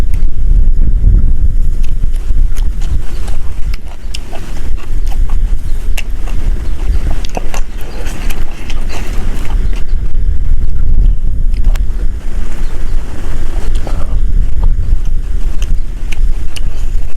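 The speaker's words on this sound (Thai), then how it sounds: "มันจะเป็นเสียงลมเลยนะพี่น้องเนาะลมแห้ง" Strong dry wind buffets a microphone outdoors during open-air beef cooking, producing a continuous loud, low rumble that swells and dips throughout, with no talking.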